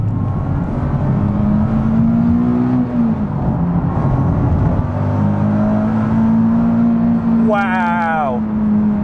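A Nissan 370Z with a 3.7-litre V6 drones loudly and steadily from close by at a held engine speed, its note dipping and rising partway through; a voice speaks briefly near the end.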